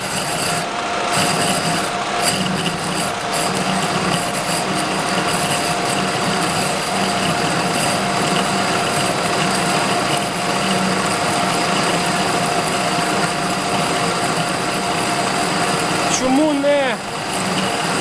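A lathe parts off a pipe with a carbide cutting tool fed with emulsion coolant, giving a steady rasping, grinding machining noise that runs throughout with workshop hum and a brief squeal near the end.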